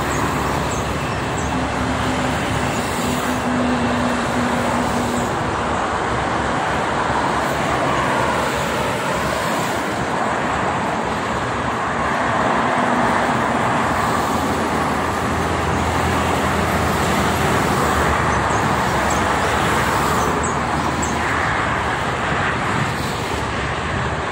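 Steady roar of traffic on the Jakarta–Cikampek toll road with dump trucks hauling red soil, a continuous wash of tyre and engine noise from passing vehicles, moderately loud throughout with no talking.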